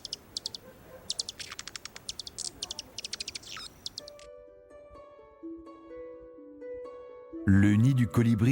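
Small birds chirp and trill in quick, repeated bursts, close and busy, for the first half. Then the birdsong stops and gentle sustained music takes over.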